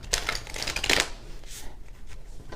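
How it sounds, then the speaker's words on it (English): A deck of cards being shuffled up close: a quick riffle burst builds to a dense flutter, then fades to a softer rustle of the cards being squared up, with no one talking. "So we're going to do our 3 shuffles and a cut."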